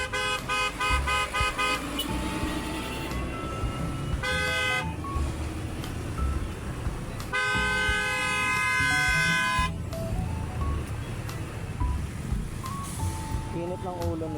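Vehicle horns honk repeatedly in heavy traffic near BSU in Malolos, with several toots and one long sustained blast standing out over the steady rumble of engines close by.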